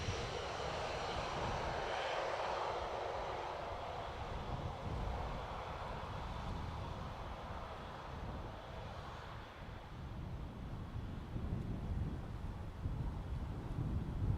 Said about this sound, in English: A320 Neo next, Aer Lingus in from Heathrow.